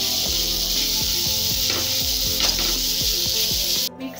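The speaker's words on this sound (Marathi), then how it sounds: "मिक्स करून पण घेतलंय आणि 1 मिनिट परतून घेतलेला आहे ठेचा" Dried fish thecha, ground together with onion, tomato and coriander powder, sizzles loudly in a pan, with steady frying hiss and rhythmic scraping strokes as it is stirred, and no voices.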